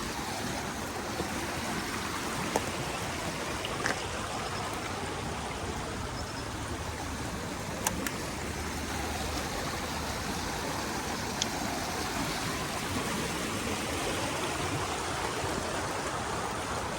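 Water rushes steadily through a drainage canal running through a town, making a broad, constant hiss and roar with no pauses and no voices.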